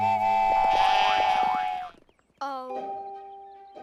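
A cartoon sheep gives a long wavering bleat, followed after a brief gap by a shorter, lower bleat in a children's animated show, loud and close.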